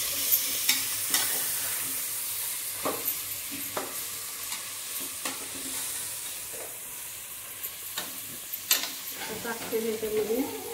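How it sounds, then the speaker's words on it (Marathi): Biryani ingredients, including fresh meat, sauté in a pan with steady sizzling and frying under repeated stirring scrapes and clicks of a spoon against the pan. The sound is close and moderate, with no talking. "आता चांगलं परतून घेते."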